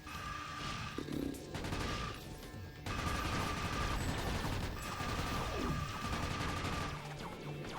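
Weapon fire from Ratchet: Gladiator crackles steadily beside mechanical whirs and clanks, along with short tonal game effects and a dense, continuous barrage throughout.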